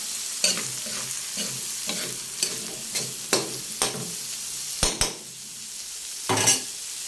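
Hotdogs frying in a pan for a spaghetti snack, a soft sizzle beneath repeated sharp scrapes and clinks as a utensil stirs against the pan, roughly a dozen strokes at an uneven pace, nobody speaking.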